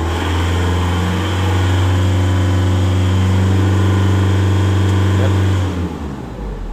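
A Holden Colorado with a U2104-00 communication fault accelerates, giving a loud, steady engine drone with a strong low hum that holds for about six seconds and then drops away. A single short word is spoken.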